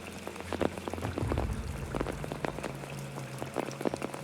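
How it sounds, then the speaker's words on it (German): Rain patters in Apsulov: End of Gods, a steady spread of irregular drops striking a surface over a low rumbling ambience, with no talking. "Er hat etwas Regen angeschalten."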